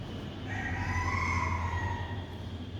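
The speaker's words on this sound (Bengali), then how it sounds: "আর ওদিকে দেশি মুরগি এত ডাকা ডাকে" Native desi chickens call in a farmyard, a drawn-out tonal cry rising over a low steady hum for a couple of seconds, fairly close by.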